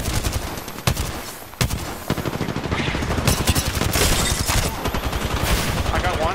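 Rapid automatic gunfire in an Apex Legends-style shooter match played as Revenant, loud and continuous with sharp bursts of shots and brief breaks, under excited player voices.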